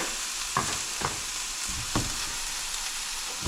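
Pork chops fry in a pan with a loud, steady hiss of sizzling fat throughout, broken by three faint knocks of something touching the pan.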